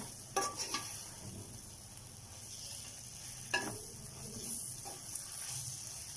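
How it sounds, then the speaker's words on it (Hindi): Fried okra being stirred into an onion masala in a pan, soft hissing sizzle with a few clattering stirs near the start and middle, fairly quiet and close, no voices. "अब हम इसमें जो फ्राई की हुई भिंडियाँ थी ना वो शामिल कर देंगे और इनको अच्छी तरह मिक्स करके"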